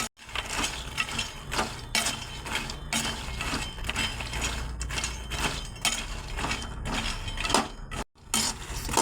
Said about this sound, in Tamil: இதுதான் நம்ம தாமரை விதையை ஆட் பண்ணிக்கலாங்க. இதுவும் ஜஸ்ட்டு சூடேற அளவுக்கு வறுத்தா போதும்.